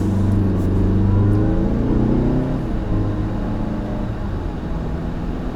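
A 2016 Mazda CX-9 Grand Touring's 2.5-liter turbo four revs up loudly, the engine note rising and then settling back down, heard close with no talking.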